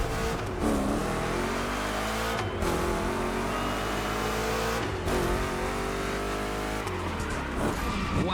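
A Chevrolet 3100 Big Block roars through a gymkhana run in The Crew Motorfest, the engine loud and continuous, revving and dropping through repeated shifts while tires squeal and skid.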